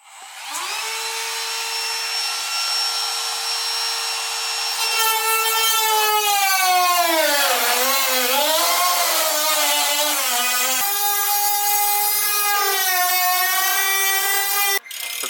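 A brand new cutting disc slices through metal, giving a loud, continuous high-pitched whine and grinding screech that dips and wavers in pitch midway, then steadies and holds for about fifteen seconds.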